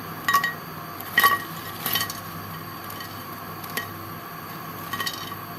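Crispy fried mixed-vegetable pakoras with potato and spinach, tossed in a metal strainer. They give a few sharp, close clinks and light crunchy rustles in brief bursts, separated by quiet pauses.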